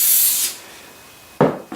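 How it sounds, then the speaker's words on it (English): Cooking spray hisses out of an aerosol can inside a bucket, first a half-second sustained spray, then after a pause two shorter bursts, close and sharp. "just with a bit of cooking spray, just spray my bucket with a light spray inside"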